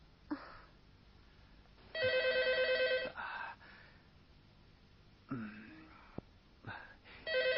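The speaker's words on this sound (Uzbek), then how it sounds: "Telefonni eling da'vatman" An old landline telephone bell rings in bursts in a quiet room, with breathing and sighing sounds between the rings.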